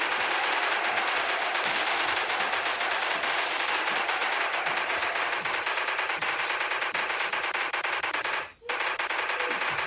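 Machine gun firing at dinosaurs in Indian Bike Driving 3D: a loud, continuous rattling burst of rapid shots runs almost unbroken for nearly ten seconds, with one brief pause near the end.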